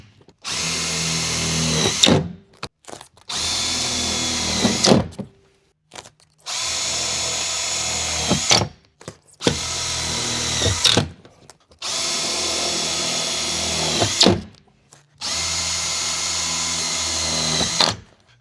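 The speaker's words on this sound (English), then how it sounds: "Today, we're just gonna put self-tapping screws on this one." Power drill driving self-tapping screws into aluminum furring strips on a Ford Transit van ceiling, six loud separate bursts of whirring and grinding, each about two seconds long with short silent gaps between them.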